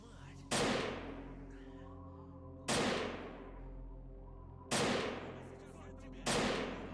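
Four single heavy gunshots ring out in the shooter STALKER: Lost Alpha, spaced a couple of seconds apart, each a sharp loud crack with a long decaying tail over a steady low background hum.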